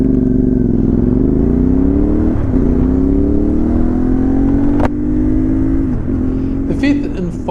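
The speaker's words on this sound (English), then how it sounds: "The fifth and final reason was the engine. Now don't get me wrong, this sounds great." A CFMOTO 450MT motorcycle engine drones and revs up close and loud, its pitch rising and falling over several seconds, with a brief clatter near the end.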